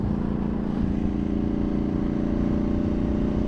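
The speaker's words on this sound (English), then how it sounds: "And now this bike actually has a good exhaust note." Tuned Ducati Panigale V2 motorcycle exhaust note, a loud, steady, close engine drone with a throbbing low rumble and no speech.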